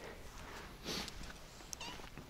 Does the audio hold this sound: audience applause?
no